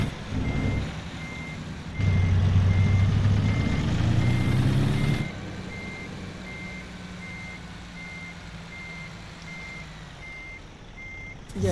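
A truck in American Truck Simulator video game reverses with evenly spaced electronic backup beeps over a rumbling diesel engine that surges briefly, then idles lower as the beeping continues.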